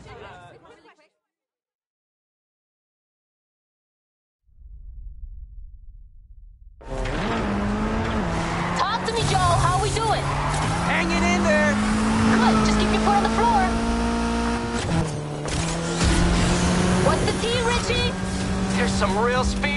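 Race cars speed through a Need for Speed race with loud, steady engine roar and rising, shifting revs, coming in after a short silent stretch and quiet lead-in and then running continuously to the end.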